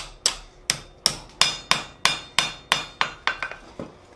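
A blacksmith hammers hot steel to bend it while forging a mason jar candle holder; about eleven sharp, ringing metal blows land in a steady rhythm, close and loud, with no talking.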